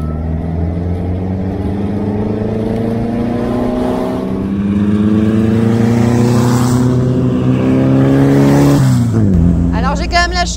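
A 1957 original Meyers Manx beach buggy drives with a loud, close engine note that climbs steadily in pitch through the gears before dropping sharply near the end, with a voice speaking over it.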